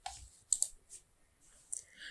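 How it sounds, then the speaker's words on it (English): Computer mouse clicks while entering data in a Word table: a couple of sharp, quick clicks stand out against a faint background, close and brief, with a soft voice barely present. "bring the pointer on the cell where the data is to be entered and click"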